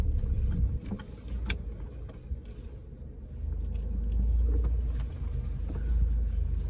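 A car rolls along behind on a residential street with a low, steady rumble, distant engine noise and road hum rising and falling with faint clicks and knocks, no voices.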